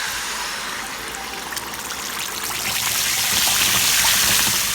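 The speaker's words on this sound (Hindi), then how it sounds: "जी, ऑयल गर्म हो गया, इस पर हम पालक डालेंगे।" Fresh spinach dropped into hot oil in a large commercial pan for degi palak gosht, giving a dense, steady sizzling hiss that swells louder toward the end, close and continuous with no talk.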